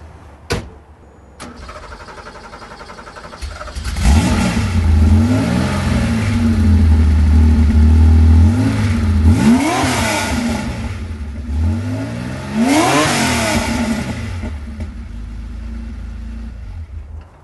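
A Porsche engine cranks and catches after a few clicks, settles into a loud, close idle, then is revved sharply twice, each rise swelling and falling back before it idles again.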